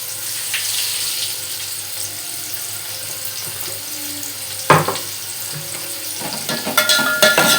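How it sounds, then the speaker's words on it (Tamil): Onions sautéing in a pan, a steady sizzle throughout with a few louder stirring or scraping bursts toward the end, no talking. "வெங்காயம் போட்டு வதக்கலாம்."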